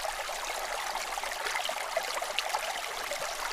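Creek water rushes steadily around a large boulder placed to slow and divert the flow at a gold sluicing spot, a continuous close hiss and burble with no voices.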